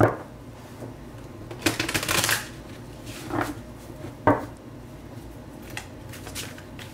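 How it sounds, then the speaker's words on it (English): Tarot cards are shuffled in a few short riffling bursts, with quiet pauses between the shuffles and no talking. "they want me to do another one of these shuffles"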